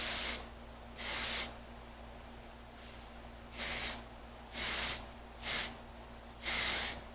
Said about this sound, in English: This is just that conditioning mist that I talked about earlier.